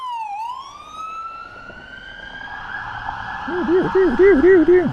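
A police car drives past on a Toronto East Chinatown street, its siren sweeping up from a low start and then switching to a fast warbling wail that grows louder as it nears.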